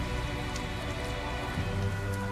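Steady rain falling in the video game Tales of Zestiria, a dense, even patter that holds throughout with no voices over it.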